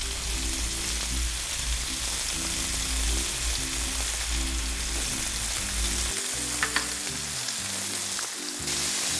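Onions and yams fry in a hot pan with a loud, continuous close sizzle and crackle, broken by occasional stirring scrapes and a brief clatter, with no talking.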